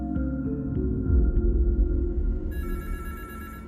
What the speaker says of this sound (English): Dr. Lawrence Foster picked up the ringing phone on his desk